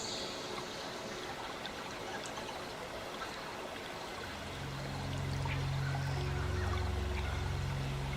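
A stream runs in a steady, close wash of rushing, trickling water, with a low rumble swelling in the second half.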